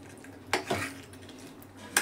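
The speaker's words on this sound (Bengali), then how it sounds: "দেখুন আমি এখানে খাসির মাংসটা কষা করছি।" A utensil knocks and scrapes against a pot as mutton is sautéed and stirred, with a few distinct clinks over a low background hiss, close and fairly quiet.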